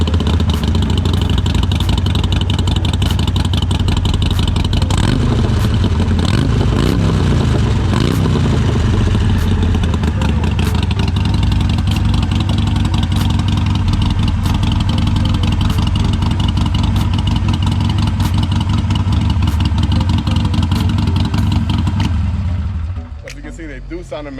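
A Harley-Davidson Iron 883 motorcycle with modified aftermarket exhaust idles loud and close with a deep, steady rumble and a few throttle blips, then cuts off abruptly near the end.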